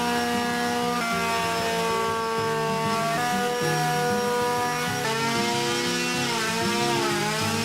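A power sander with 150-grit sandpaper works a wooden surface, producing a steady, loud, whining motor drone whose pitch shifts slightly as pressure changes.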